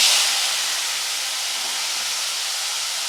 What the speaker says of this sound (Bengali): আগে চিংড়ি মাছটি ভেজে নেব।